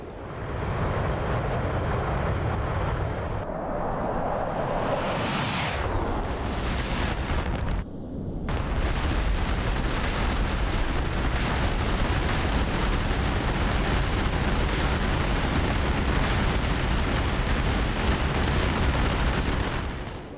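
Bombs dropped from an F-15E Strike Eagle in DCS strike a ground target during close air support near the border, a deep blast rising out of steady, roaring jet and cockpit noise that rumbles on for many seconds.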